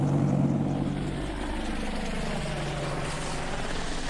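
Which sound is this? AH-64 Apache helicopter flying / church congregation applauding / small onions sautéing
AH-64 Apache helicopter flying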